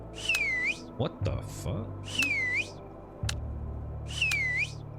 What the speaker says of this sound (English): Why is my dude whistling every time I?